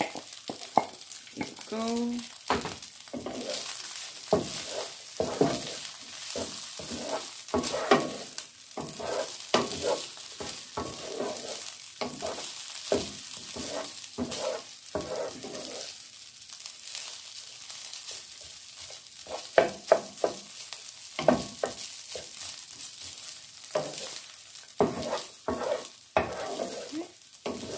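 Beef sizzles loudly in a hot pan for fried rice, with frequent scraping stirs giving an irregular rhythm of strokes over steady frying. A voice speaks briefly near the start.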